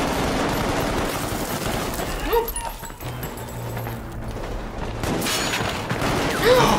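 Gunfire from a scene in the film Sicario, dense loud bursts and cracks layered over a busy soundtrack, with voices talking through the shooting.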